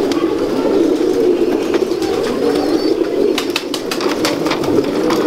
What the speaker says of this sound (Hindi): जी एजाज साहब कौन से कबूतरों का शौक करवा रहे हैं?